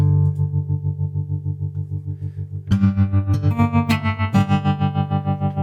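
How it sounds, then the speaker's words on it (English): Strummed acoustic guitar chords with a tremolo effect give a pulsing, wavering volume, a steady rhythmic throb running through a held chord that then changes to brighter, louder strums. "What about some tremolo?"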